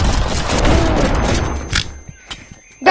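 Shotguns fire in the multiplayer VR game Animal Company: a dense burst of loud, overlapping blasts rolls for about two seconds, followed by a few scattered sharp shots and thuds.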